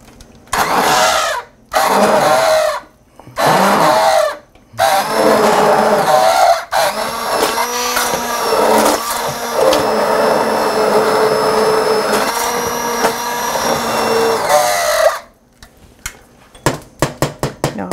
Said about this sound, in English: I am going to use the blender. I find I use the immersion blender quite a bit.